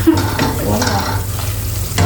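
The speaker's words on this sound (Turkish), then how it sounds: "Şöyle salçamı attım. Biraz kavurdum salçamı." Tomato paste sizzling and frying in a pan, a steady hiss with scraping as it is stirred, close up and fairly loud.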